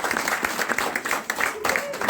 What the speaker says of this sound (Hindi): सबसे पहले मैं सारी ऑडियंस से रिक्वेस्ट करती हूँ कि जिन भी बच्चियों ने यहाँ पे परफॉर्म किया उनके लिए एक जोरदार तालियां बजाएं।